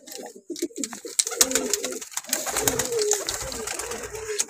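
A recovering pigeon coos in low, repeated soft calls close to the microphone, with other bird sounds and light background noise around it.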